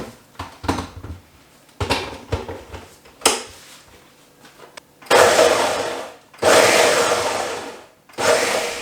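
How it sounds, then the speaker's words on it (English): A blender whirs through a chili garlic oil mixture in three loud bursts near the end, after quieter clicks and handling knocks. "The next step is to go ahead and put it on the blender itself."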